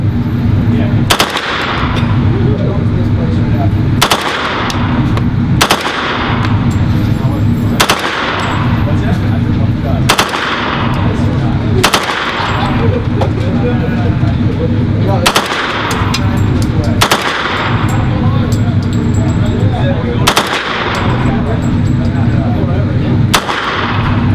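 A machine gun fires repeated loud bursts at close range, each a dense rattle of rapid shots separated by short pauses, the pattern recurring roughly ten times with a few faint voices in between.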